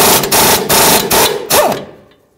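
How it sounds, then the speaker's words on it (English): A ratchet on a 17mm socket clicks in four quick bursts while removing the mounting nut of a downstream O2 sensor on a 2006-2012 Ford Fusion 3.0L V6, loud and close, with the last burst trailing off to silence. "Use a 17mm to remove the mounting nut."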